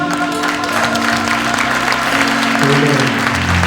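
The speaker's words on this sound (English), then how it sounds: "Y'all clap your hands." Audience clapping fills a Black History luncheon hall, a steady dense patter of many hands with some organ-like tones underneath, close and loud throughout.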